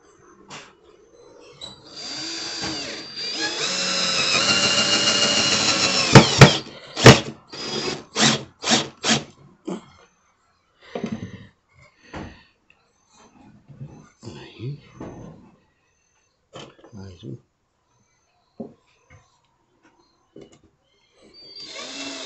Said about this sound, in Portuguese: Começar parafusando os pezinhos ali para segurar a roda.